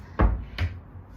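A cabinet door on newly installed balcony furniture makes two short, close knocks in quick succession in a quiet room, like a door bumping and catching as it is opened.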